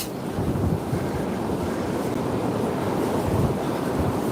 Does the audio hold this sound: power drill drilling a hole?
no